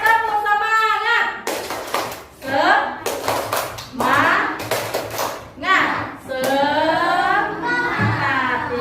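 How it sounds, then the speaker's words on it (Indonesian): A group of children claps together in a classroom lesson, sharp bursts of hand claps breaking between stretches of a teacher's and kids' voices, the clapping close and loud in several short clusters. "Tepuk tangan dulu semua"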